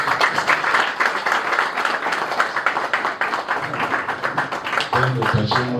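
Audience clapping at an institute's launch ceremony as an examination centre, a dense steady patter of many hands filling the room, with a voice and low tones joining near the end.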